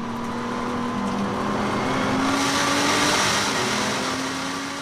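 A Nissan GT-R and a Corvette race at the Nürburgring 24 hours, engines roaring steadily at high speed, one car rising in pitch as it pulls closer and accelerates past; no talk over the sustained engine noise.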